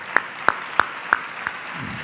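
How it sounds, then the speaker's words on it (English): Five sharp hand claps at an even, steady pace, fairly faint, with near silence between them. "I think we need an applause for them"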